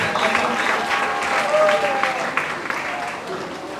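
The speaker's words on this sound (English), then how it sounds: "So let's have a round of applause." Applause from an audience at a 2022 charity foundation event, sustained clapping of many hands at moderate distance, steady for a few seconds and then slowly tapering.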